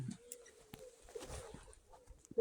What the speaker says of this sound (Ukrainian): Ну от такі от такі голубки.